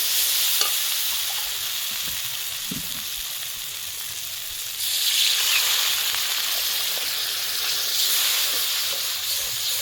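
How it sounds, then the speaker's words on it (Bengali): Fried spice paste sizzles steadily in a pan over a village cooking fire, and the hiss swells louder about halfway through as water goes in, bubbling and spitting close by with no talking. "মশলা থেকে তেল ছেড়ে এসেছে, এবার আমি জল দিয়ে দেবো পরিমাণ মতো।"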